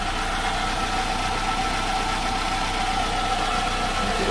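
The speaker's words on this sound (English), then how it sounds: "The engine runs good and all that." A Hyundai Tiburon engine idles steadily with a low, even rumble and slight vibration, running continuously and unchanged throughout.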